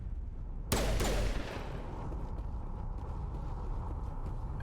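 A single loud burst of gunfire erupts from a Mass Effect Legendary Edition firefight, a sharp broadband crack with a short rattling tail, then fading into steady game ambience with no talk.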